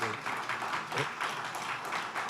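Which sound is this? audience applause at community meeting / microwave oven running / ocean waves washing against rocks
audience applause at community meeting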